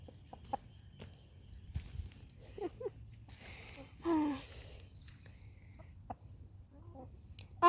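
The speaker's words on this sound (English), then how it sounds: "so that right there is the main rooster, and the other roosters are the ones that are new" Roosters and chickens in a backyard give scattered, fairly faint clucks and calls, with one brief, louder crow-like call near the middle and another burst at the end over a low outdoor rumble.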